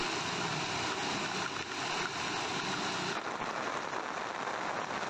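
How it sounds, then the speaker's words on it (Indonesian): Heavy tropical rain pours steadily with a broad rushing hiss, blustery wind mixed in, dense and continuous throughout, during a storm in Indonesia. "Hujan deras disertai angin kencang melanda sejumlah wilayah."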